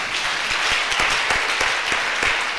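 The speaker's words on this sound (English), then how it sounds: "Your hand claps are scaring me." Church congregation clapping hands during a sermon, a dense steady patter of many claps at even loudness throughout, with no talk over it.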